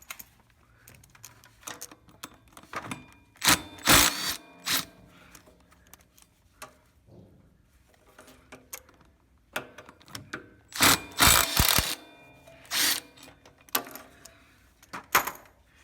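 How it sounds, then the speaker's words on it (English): Metal 7/16 bolts being loosened and pulled from a tapered bearing pulley on a Scag Turf Tiger mower, heard as irregular bursts of ratcheting clicks and scraping clatter with quiet gaps between, close by and without talk. "And you got these 7/16 bolts that you need to pull out."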